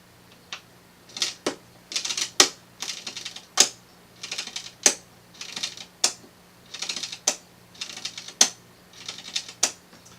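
A Kodak Cirkut #8 panoramic camera's spring-driven mechanical motor being wound by hand, giving a steady series of sharp ratcheting clicks in short bursts, close and clear with no talking.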